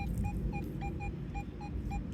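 A metal detector sounds its high tone over a buried quarter: a clear electronic beep repeated about eight times in an even, quick rhythm over steady low rumble.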